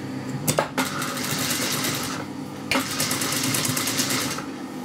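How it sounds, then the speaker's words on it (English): A sewing machine runs a seam along fabric in two steady bursts of fast mechanical clatter, close and fairly loud, with a short pause between runs and no talking. "I'm gonna just turn that over and run this seam all the way."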